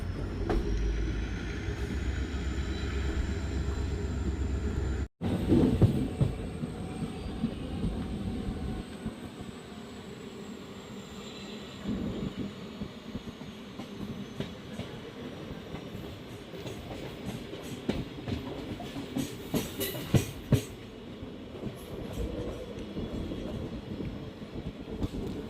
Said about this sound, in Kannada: ಫ್ರೆಂಡ್ಸ್, ನಮ್ಮ ಟ್ರೈನ್ ಈಗ ಅಮ್ಮಸಂದ್ರ ರೈಲ್ವೆ ಸ್ಟೇಷನ್ಗೆ ಎಂಟ್ರಿ ಆಗ್ತಿದೆ.